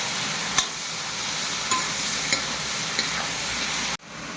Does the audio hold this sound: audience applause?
no